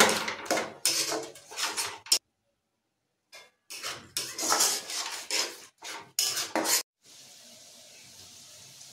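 A metal spoon scrapes and clatters in a pan while onion, ginger and garlic paste is stirred, in bursts of rhythmic scraping with a short pause, then a soft sizzle at the end.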